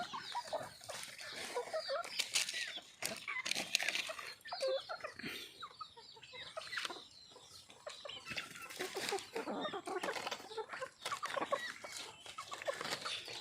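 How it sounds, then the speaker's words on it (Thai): High, thin cheeping from young chicks, many rapid peeps overlapping continuously at close range, with soft rustling and scratching underneath. "วันนี้พามาดูลูกไก่"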